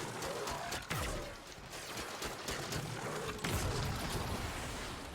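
Warframe Railjack archwing weapon alt fire sets off loud booming explosions, two sharp blasts with rumbling tails amid a continuous roar of space combat noise and gunfire.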